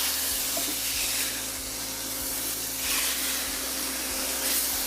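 Ground beef searing in a pan, a steady broad sizzle and hiss running continuously at moderate level with a faint low hum beneath, no voices.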